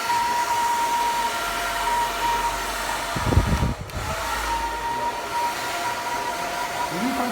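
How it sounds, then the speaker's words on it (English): A hair dryer blows with a continuous broadband whoosh and a faint steady whine, close by, with a brief thump partway through. "When you come to your hair dryer as well, listen to it."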